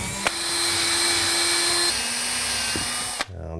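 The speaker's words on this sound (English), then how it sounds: "I'm going to pre-drill my marks so I know I'm going in the right place with the screw." A power drill whirs steadily for about three seconds while pre-drilling screw holes, pitch dropping slightly midway, then stops abruptly with a short clunk; close and loud, no talking.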